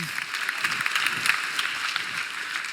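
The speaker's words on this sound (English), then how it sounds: "Let's give the parents a round of applause for moving you in." An audience at a university welcome address applauds the parents who moved their students in, a dense, steady round of clapping lasting a few seconds.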